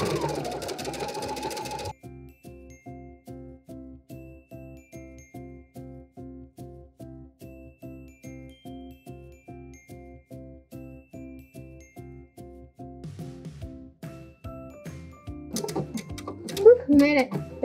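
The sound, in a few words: sewing machine stitching thick winter coat fabric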